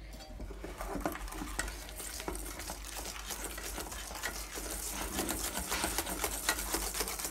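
Warm milk is being whisked quickly into eggs in a bowl to make custard, a fast, continuous clatter of whisk against bowl heard up close and fairly faint, with no talking.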